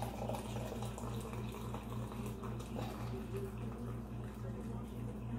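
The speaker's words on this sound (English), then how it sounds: "for the mashed potatoes, I will put in the 2 cups of boiling hot water" Two cups of boiling hot water pour into mashed potatoes, a faint, steady trickling splash with a low pulsing hum underneath and no talk.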